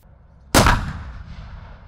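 A self-propelled artillery gun fires one sharp, loud shell blast at a military firing range. Its rumbling echo fades over the following second.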